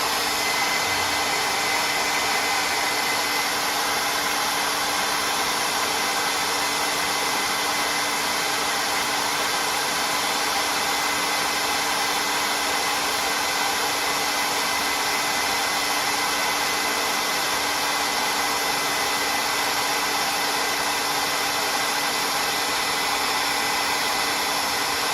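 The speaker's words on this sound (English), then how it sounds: "if I take a hairdryer and I aim at this for about 30 seconds" A hair dryer blows steadily on the hot end of a Prusa MK3s 3D printer, a loud, even whir with a constant tonal hum running unchanged for the whole stretch.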